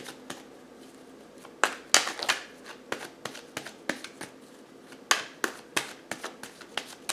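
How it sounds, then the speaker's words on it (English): Tarot cards are shuffled by hand in crisp, irregular bursts of riffling snaps and flicks, close and clear, with short pauses between handfuls and no talking. "If you don't like the shuffling, please feel free to scroll ahead."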